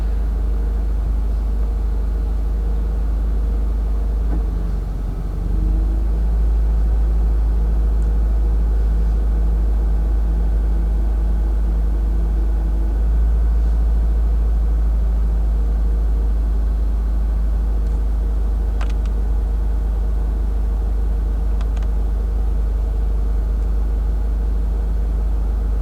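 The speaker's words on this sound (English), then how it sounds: "gonna drive a little bit" Steady low engine rumble from inside a car pulling away and driving just after a cooked clutch was replaced, with a brief shift in tone near the start and no talking.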